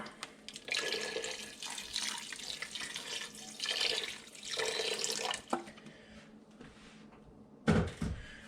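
Water poured from a tap into a pot of pork ribs with soy sauce, heard as a close splashing stream in several surges, followed by a few drips and a clunk.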